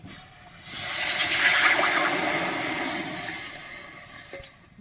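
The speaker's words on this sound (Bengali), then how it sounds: "কড়াইতে জল দিয়ে দিয়েছি" Water poured into a hot kadai (wok) erupts into a sudden loud sizzling hiss that swells, then slowly fades to a steady simmer over a few seconds, with no talking.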